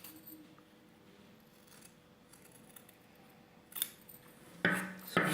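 Scissors trimming dress fabric while sewing an off-shoulder flared dress, a couple of crisp snipping cuts near the end after a quiet, faintly rustling stretch.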